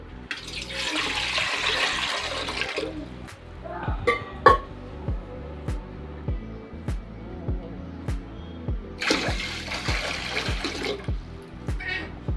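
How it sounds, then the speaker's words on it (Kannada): Water gushes into a pot heating on the stove in two separate bursts, one at the start and one near the end, over a steady rhythmic tapping beat. "ಈಗ ಅದಕ್ಕೆ ನೀರು ಹಾಕ್ಕೊತಾ ಇದ್ದೀನಿ"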